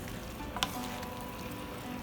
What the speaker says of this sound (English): while mixing it, you have to be careful that you're able to mix it really well, so that the noodles and the veggies get mixed nicely